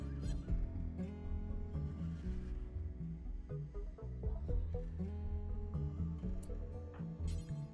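Horses in RimWorld whinny in a long, wavering call over a dense, steady bed of game music and ambience, fairly loud and continuous.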